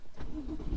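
A 2016 BMW M2 with the N55 engine fires up, a short, fairly quiet burst of engine noise that swells briefly and settles, heard from inside the car.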